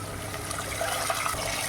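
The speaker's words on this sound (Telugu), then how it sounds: "వేగాక ఆ స్మెల్ వచ్చాక వాటర్ పోసుకుందాం" Water pouring steadily into a cooking pot for kattu pongal, a continuous close rushing splash with no pauses, fairly loud and alone.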